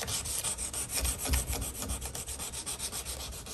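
An old German knife is sanded with 220-grit abrasive in quick, steady back-and-forth strokes, a close rhythmic rasping repeated a dozen or so times without any talking.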